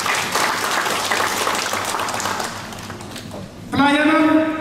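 An audience applauds in a dense, sustained burst of clapping that thins out toward the end, then a voice with a tonal, sung or called quality cuts in loudly over the last second.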